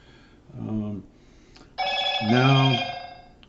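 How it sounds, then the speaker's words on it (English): A cell phone rings twice in bursts of bright, warbling tones during an indoor talk on Social Security disability. Someone speaks a single word between the rings. "sorry about that cell phone."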